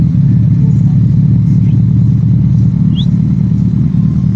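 Suzuki Hayabusa 1300cc inline four-cylinder motorcycle engine running loud and close, a dense steady low rumble without clear rev peaks, with no speech over it.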